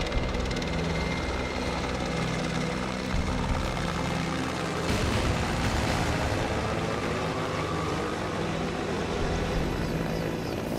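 A helicopter flies out from the Srinagar airbase during flood rescue operations, its loud, continuous rotor and engine roar dominating throughout and swelling slightly midway, with no voices over it.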